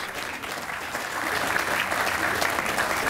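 An audience at a town centennial ceremony claps steadily, with dense applause that swells slightly and holds throughout.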